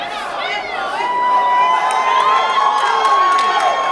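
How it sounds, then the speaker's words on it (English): A boxing crowd at the Jesus Rizo vs Alan Galindo fight cheers for Galindo, rising into loud, sustained roaring and shouting with whoops, and stays at full volume to the end. "It's the crowd now showing their appreciation to the effort that Alan Galindo is showing here in this fight."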